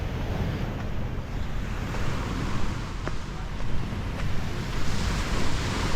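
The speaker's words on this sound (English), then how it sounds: "And we're listening to the waves." Ocean waves washing on a beach at Puerto Galera at night, a steady broadband rush with gentle surges, mixed with wind buffeting the microphone and faint background activity.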